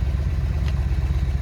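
A 1979 Ford F100 truck engine, not run in ten years, running at idle with the choke nearly fully on, a steady low rumbling throb with a slight rhythmic clatter, close and loud.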